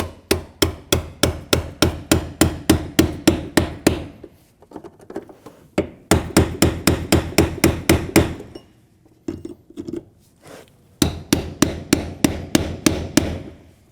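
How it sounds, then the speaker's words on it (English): A hammer strikes a brass punch against a fuel pump module lock ring on a Volkswagen Passat 2.5L in rapid bursts of sharp, ringing taps, close and loud, with short pauses between volleys. "Now we can take that brass punch and a hammer and lock this lock ring down."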